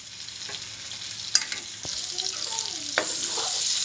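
Mango pieces and red chili paste stirred into chicken curry in a pan, with a soft steady sizzle and intermittent spoon scrapes and taps against the metal, close and moderately quiet, no talk.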